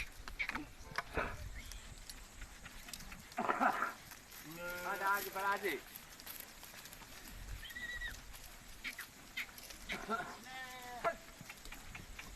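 A visiting flock of sheep and goats bleats in an Indian village. Drawn-out wavering calls rise twice, near and fairly loud, amid mixed background noise while people talk throughout.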